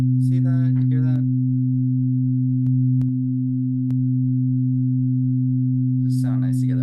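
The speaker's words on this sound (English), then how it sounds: "This one's going to be sine wave." A steady 256 Hz sine wave tone from a tuning demonstration hums continuously and loudly throughout, with someone talking over it briefly at the start and end.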